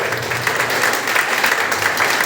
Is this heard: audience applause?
yes